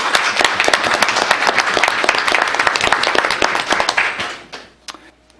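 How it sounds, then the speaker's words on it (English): A luncheon audience in a room gives a hearty round of applause, thick and sustained for about four seconds, then quickly fades to scattered claps and quiet. "So I'm going to give him a round of applause."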